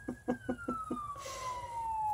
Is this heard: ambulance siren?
yes